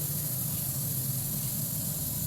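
Cabbage leaves and vegetables hiss and sizzle on a hot sizzler plate, a loud steady broadband frying hiss with no break.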